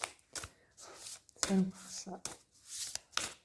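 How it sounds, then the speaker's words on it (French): A single card is drawn from a tarot-style deck during a reading, giving brief dry shuffling and papery slides close by, set among short bursts of French speech. "je tire la dernière carte"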